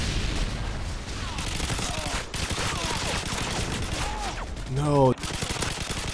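Light machine gun fire in Call of Duty Modern Warfare 2, sustained rapid bursts running nearly throughout, loud and close, with a brief pause and a sharp burst of other game noise near the end.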